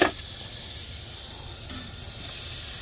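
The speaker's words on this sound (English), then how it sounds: "We're just gonna go ahead and put this over a direct flame" A smoked burger sears over a direct flame with a steady hiss and sizzle, opening with a short sharp onset and holding even throughout.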